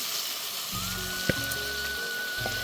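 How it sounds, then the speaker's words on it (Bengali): Boiled lentils go into a hot pan of fried spices, a steady hissing sizzle up close with a sharp click partway through, no voices. "এখন আমি এর মধ্যে ডাল সেদ্ধ করে রাখা ডালটা দিয়ে দেব"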